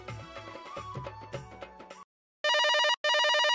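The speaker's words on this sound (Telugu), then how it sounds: "రింగ్ అవుతుంది, రింగ్ అవుతుంది." A phone rings in a Telangana comedy short, two loud electronic ring bursts with a clean tonal pattern following a stretch of busy music and a pause.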